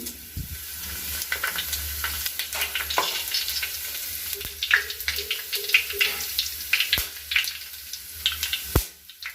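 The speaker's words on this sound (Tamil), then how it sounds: "இந்த சூடான எண்ணெயில் 2 விரிஞ்சி இலை, பட்டை, லவங்கம், ஏலக்காய், சோம்பு" Bay leaves, cinnamon, cloves, cardamom and fennel frying in hot oil for mutton biryani, a lively close sizzle and crackle with scattered sharp pops and utensil clicks that build and spike toward the end.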